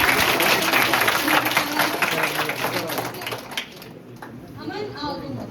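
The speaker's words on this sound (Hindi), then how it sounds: "चलो अर्पिता के लिए जोरदार तालियां।" Schoolchildren in a classroom clap for a classmate during a school health program, a brisk burst of many small hands that fades out after a few seconds, with an adult voice talking over and after it.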